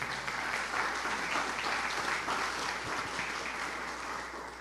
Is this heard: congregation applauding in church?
yes